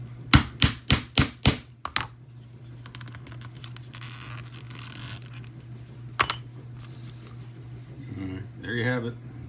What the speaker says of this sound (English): Got you some holes with your thonging chisel.